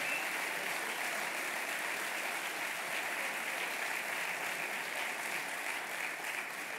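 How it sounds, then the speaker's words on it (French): Warm, sustained applause from a crowd at a May Day political speech in a Charleroi hall, an even, continuous roar of clapping with no voices over it. "je vous demande d'applaudir très chaleureusement"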